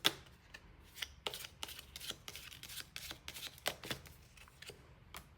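Tarot cards are shuffled close to the microphone in quick, crisp riffles and slaps. The sound is soft and uneven, with short flutters and taps throughout and no speech.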